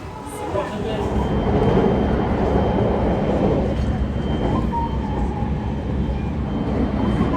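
Inside a train station in Osaka, Japan, a steady low rumble of rail traffic and station noise fills the space at a fairly constant level, with faint background voices mixed in.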